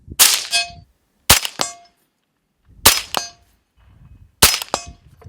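Four loud rifle shots from a KAC SR-25 .308 semi-automatic, spaced over a few seconds, each followed closely by the sharp ring of a bullet striking a distant steel target.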